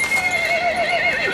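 A horse gives a long, loud, close whinny with a wavering pitch that rises and falls throughout, in a dramatic scene about a legendary herd stallion, with no one speaking.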